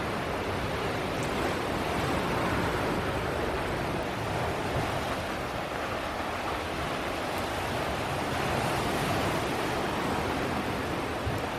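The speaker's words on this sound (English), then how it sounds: "Nice sound of waves crashing against the rocks." Ocean waves crash against rocks on a windy tropical coast near Port Douglas, Queensland, forming a dense, steady wash of surf that is moderately distant and continuous, with no voices.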